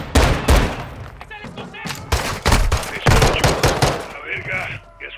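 Automatic rifle fire rattles in bursts during a Call of Duty Modern Warfare 2 firefight, loud close volleys of rapid shots separated by short gaps, with someone shouting in Spanish over the shooting.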